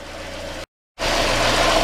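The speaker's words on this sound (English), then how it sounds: "I also love seeing this car running." A Volvo 480 car engine idling steadily close by with a broadband rumble, cutting out briefly to silence before resuming at a fuller, slightly louder level.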